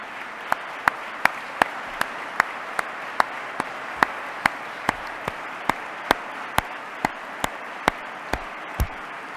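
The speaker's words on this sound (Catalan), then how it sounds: "dongueu un fort aplaudiment a la gent que realment fa possible l'Altra Ràdio" At a national communication award ceremony, an audience claps in a slow, regular rhythm, sharp synchronized claps roughly every half second over a soft background hum.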